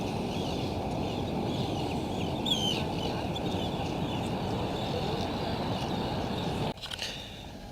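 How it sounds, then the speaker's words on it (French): A crowd of birds, with fowl-like clucking calls, chatters continuously near a boat in Iceland, under a dense, steady wash of wind or water noise, with a few sharper calls standing out midway. "Il y a plein d'oiseaux."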